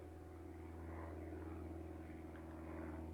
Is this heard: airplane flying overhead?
yes